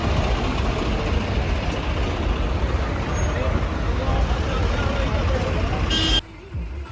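Tractors gather by the thousands for a protest rally near Ludhiana against a land pooling policy. Their engines make a thick, constant rumble that stops abruptly near the end.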